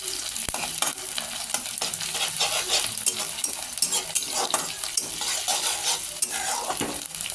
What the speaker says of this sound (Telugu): ఇప్పుడు ఇది కూడా పచ్చి వాసన పోయే వరకు వేయించుకుందాం